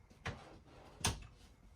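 Cabinet doors in a travel trailer open and shut, giving two soft, close thumps about a second apart against a quiet room.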